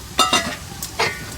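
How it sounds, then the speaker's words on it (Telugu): Roasted gram (putnalu) frying in hot oil for atukula chudwa, with a soft sizzle broken by a few quick stirring scrapes of the spoon in the pan. "ఇప్పుడు పుట్నాలు కూడా వేపుకోవాలి మనం."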